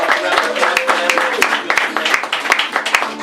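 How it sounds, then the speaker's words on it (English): A small talk show audience applauds the musical guests, with scattered, uneven clapping at moderate loudness and voices talking over it. "So just one more round of applause for them."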